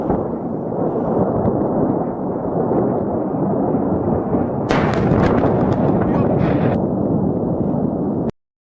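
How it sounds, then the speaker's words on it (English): A continuous roar of rumbling explosions and crackling bursts, loud and chaotic, with sharper pops breaking through near the end before cutting off abruptly. "munitions cook and start flying in different directions. It's a chain reaction. It's a series of explosions."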